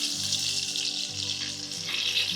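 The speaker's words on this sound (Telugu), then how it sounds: "ఫస్ట్ గిన్నెలో నూనె వేసుకోవాలి, తర్వాత కరివేపాకు అండ్ డ్రై మసాలా" Curry leaves and dry masala sizzle steadily in hot oil in a pot, a continuous close crackling hiss with no voices.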